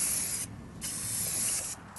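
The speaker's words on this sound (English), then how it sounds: "First coat of clear coat." An aerosol can sprays clear coat onto parts of a Wheel Horse tractor being restored, in close, loud hissing bursts with two brief pauses between passes.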